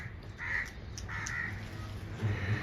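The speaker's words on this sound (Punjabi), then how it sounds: "ਆ ਦੇਖੋ ਕਿੰਨੇ ਕਾਂ ਉੱਡ ਉੱਡ ਕੇ ਆ ਰਹੇ ਨੇ" Several crows caw outdoors on a hot, sunny day, with a few harsh calls at intervals over a low background hum.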